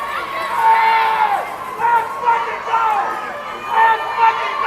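Crowd noise at a 12U youth basketball preseason game in a gym, a steady roar of voices and cheering with whistle-like tones and swells, continuous and fairly loud throughout.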